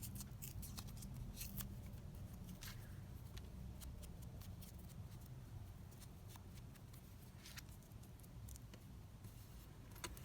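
A page is ripped out of a book at a desk during a paper craft project, giving a steady papery rustle and tearing with a few sharp crackling snaps, close and fairly quiet.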